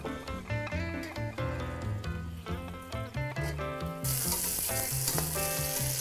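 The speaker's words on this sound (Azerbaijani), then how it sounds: "Öncədən doğranılmış toyuğu biz biraz bitki yağında qızartmalıyıq." Chopped chicken sizzles in vegetable oil in a pan, a steady frying hiss under music that swells louder in the final seconds.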